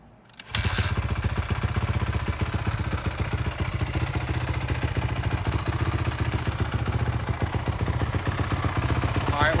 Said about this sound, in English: So I'm gonna cap this up and back the bike out and start it up.